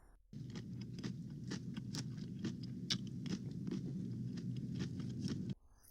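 Someone chewing crunchy lettuce up close, a steady run of crisp crunches and bites at a fairly even rhythm, moderately loud, with no speech.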